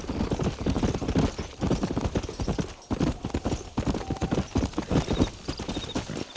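A horse gallops in Red Dead Redemption, hooves clip-clopping in a fast, steady rhythm close up and fairly loud, with faint game ambience behind and no talking.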